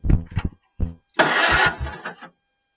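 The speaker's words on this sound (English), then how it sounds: "First thing that we'll check is the engine turns over." A Farmall H tractor engine cranks with a few short chugs, pauses, then catches and turns over in a loud, rough burst before cutting out.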